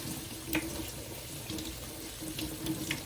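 Tap water streams steadily into a kitchen sink while food is rinsed under it, a continuous close splashing flow with a few brief louder spurts and clatters.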